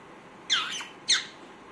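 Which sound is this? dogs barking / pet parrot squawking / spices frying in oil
pet parrot squawking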